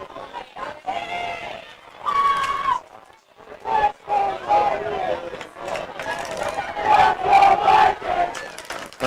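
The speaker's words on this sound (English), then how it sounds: "Let's Go Vikings chant breaks out from the Viking home crowd." Home crowd at a South Tahoe Vikings boys' varsity high school football game chanting "Let's Go Vikings" in loud, rhythmic bursts of massed voices, rising and falling across the stands.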